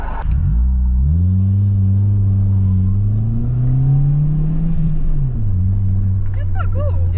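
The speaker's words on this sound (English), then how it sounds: "Should we hear the downshifts?" A Fiat Punto with a cheap aftermarket bassy exhaust rumbles loudly up close, its engine note rising through a rev and then dropping as it downshifts, with a voice faintly underneath.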